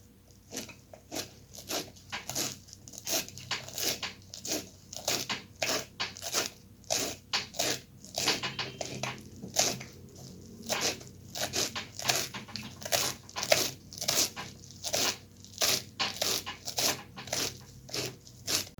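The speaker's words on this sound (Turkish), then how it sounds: "Soğanlarımızı doğradıktan sonra maydanozumuzu küçük küçük doğruyoruz." Parsley finely chopped with a knife, likely on a cutting board, while preparing a puff-pastry mock Bosnian mantı, right after onions were diced. Rapid, steady knife strikes repeat crisply and close by for nearly twenty seconds, with no talking.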